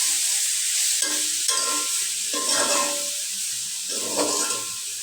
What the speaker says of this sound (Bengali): যে শাক ভাজিটা আমার হয়ে গেল, ভালো মতো নাড়াচাড়া করলাম।